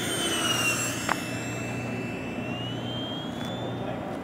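Freewing 90mm F-4 Phantom II RC model jet making a slow pass down the runway at an evening flying event, a steady ducted-fan whine with a gradual pitch shift as it passes, over a constant low rumble.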